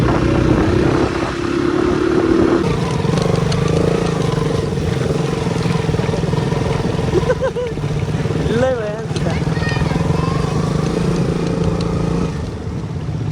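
A motorcycle engine running steadily after a struggle to start, loud and close throughout on a moto trip near Kathmandu, with a rider talking over it.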